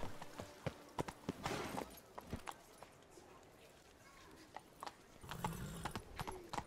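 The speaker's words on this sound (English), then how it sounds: "Let me get my horse here." Horse hooves clop in an uneven, quickening rhythm in the video game The Witcher 3: Blood and Wine, close by, with soft rustling and ambient noise between the hoofbeats.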